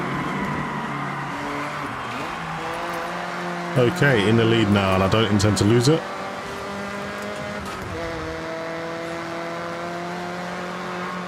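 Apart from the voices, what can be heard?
race car engine and driving in Forza Horizon video game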